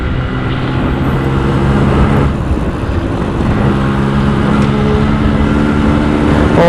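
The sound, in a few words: Yamaha RX100 two-stroke motorcycle engine and exhaust revving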